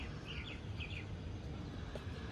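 Kaldoma pigeon chicks give faint, high chirps in two short bursts early on, with a soft third note later, all over a steady low background hum.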